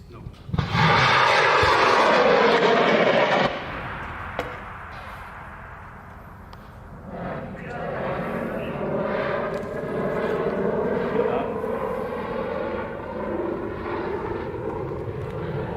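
The ARIS Euler rocket's engine ignites in a sudden, loud, crackling roar that lasts a few seconds. It then fades into a distant, rolling rumble as the rocket climbs away, while spectators cheer and shout in the background.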